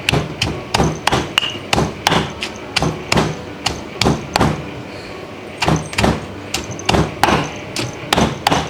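Green curry paste with shallot being pounded in a mortar and pestle, heavy rhythmic thuds repeating steadily about twice a second, close and loud, with one short pause midway and no talk.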